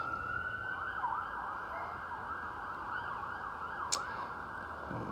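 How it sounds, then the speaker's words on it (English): An ambulance siren wails steadily as the vehicle passes, holding at a moderate distance over a low road hum with no one talking. "Got the ambulance going by."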